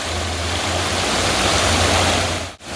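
Water pours steadily over the rocks at Oliyathumpara waterfall in Mezhathur, making a loud, continuous rushing roar close by that barely changes until a brief dip near the end.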